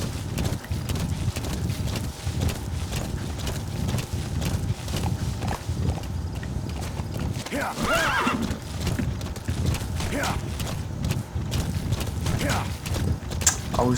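A horse in the Metal Gear Solid V: The Phantom Pain video game neighs loudly several times over steady clip-clop hoofbeats, with people talking faintly underneath.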